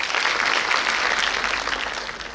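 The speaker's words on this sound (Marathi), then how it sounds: "एक जोरदार टाळ्या सरांसाठी." An audience applauds a speaker at a commemorative gathering in Pune, a dense, steady wash of clapping that fills the space on its own without any talk over it.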